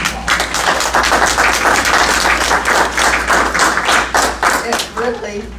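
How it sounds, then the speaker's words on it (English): Audience applause for two women who decorated a town's main street, a steady round of dense clapping throughout, loud and close, with a hint of voices as it tapers at the end. "I think we need to give them a round of applause."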